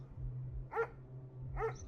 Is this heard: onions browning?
no